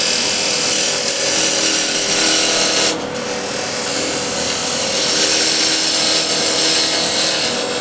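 A bevel tool cuts a wooden wheel spinning on a woodturning lathe, producing a steady, loud rasping and scraping drone with a brief sharp disturbance partway through.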